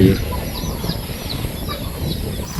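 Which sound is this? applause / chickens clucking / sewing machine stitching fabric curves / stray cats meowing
chickens clucking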